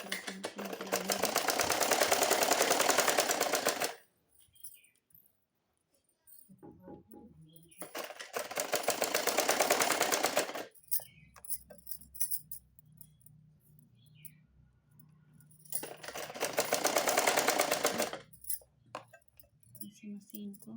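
A sewing machine stitches fabric in three long, steady bursts of rapid mechanical whirring, each lasting a few seconds, separated by quiet pauses with light handling clicks, heard up close.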